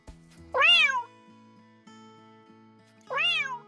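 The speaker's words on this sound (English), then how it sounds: "the cats answered with soft, happy meows" A cat gives two clear, soft meows, the first long and rising-falling, the second shorter about two and a half seconds later, close and alone over a quiet hum.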